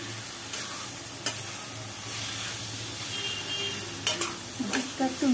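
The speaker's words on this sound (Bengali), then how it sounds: "সবজি আনাজ নুন দিয়ে ভেজেছি" Vegetables with salt sizzle and fry in a pan, a soft steady hiss broken by a few stirring clinks and scrapes, heard close but fairly quiet.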